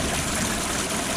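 Water trickles out of a small pipe at the end of a bioswale, a steady soft wash of dribbling flow heard close and alone.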